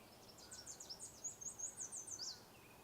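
A Wilson's warbler sings faintly at a marsh in the early morning, giving a quick run of thin, high chips that speeds into a short trill.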